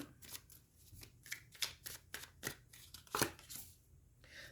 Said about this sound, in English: let's go ahead and get our 3 cards of tarot to go with this